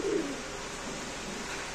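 A white Danish pigeon at a pigeon farm gives a single low coo near the start, followed by steady background noise.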